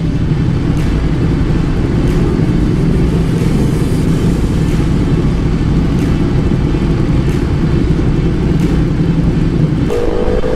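A Ducati big bike engine droning continuously while riding through traffic, loud and close with a steady low rumble, faint intermittent higher tones from surrounding vehicles, and a brief whine near the end.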